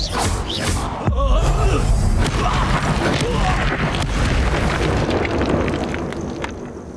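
Expulso spell blast in Hogwarts Legacy: a loud, close explosion with a sharp burst followed by a long rumbling roar and debris crackle that slowly fades.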